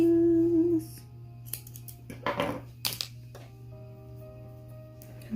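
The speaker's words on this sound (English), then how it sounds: "Snip your strings" Sharp scissor snips cutting sewing threads while assembling a fabric bodice for a romper and dress, a few quick isolated cuts around the middle over a steady low hum, with no talking.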